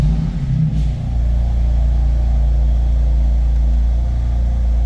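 A BMW M4 Competition with a 444 bhp 3.0-litre engine fires up by push button, a brief starter burst giving way to a loud, steady low idle rumble that holds alone.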